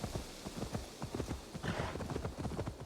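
Horse hooves clip-clop in a steady trotting rhythm in Assassin's Creed Valhalla, close and continuous over dense game ambience.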